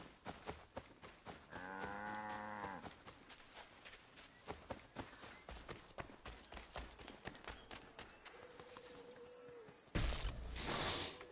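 A cow in Assassin's Creed III gives one drawn-out moo, set among steady clip-clopping hooves and footsteps, with other soft game ambience and a short tonal sound later on.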